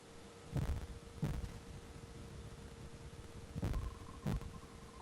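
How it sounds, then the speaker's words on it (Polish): In the Fate/Extra video game, a character's glitchy heartbeat thumps in two double beats separated by a long gap, over a steady hiss and a faint hum. "słychać zbugowane bicie serca naszej postaci"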